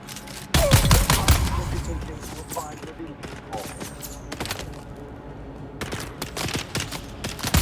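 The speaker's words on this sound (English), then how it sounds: "Bad shooting." Repeated rounds of gunfire in the survival game Dune Awakening come as sharp bursts, with loud volleys at the start and end and scattered single shots between them. Someone talks briefly in the middle.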